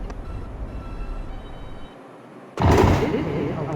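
Rumbling of an R142 subway train on the 2 line running toward Wakefield, a steady low roar that drops briefly, then surges back loud and broadband near the end.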